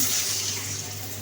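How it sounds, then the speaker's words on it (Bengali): Water poured into a pot of frying ginger-garlic paste for beef biryani, a brief continuous rushing hiss with a low hum underneath, close and steady throughout. "এখন দিয়ে দিব পানি"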